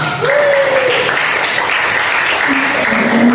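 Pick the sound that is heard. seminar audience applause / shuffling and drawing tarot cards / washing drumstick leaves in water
seminar audience applause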